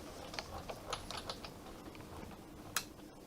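A paper trimmer slices through card with quiet mechanical clicks and light scraping, followed by one sharper snap near the end, all faint and close with no talking.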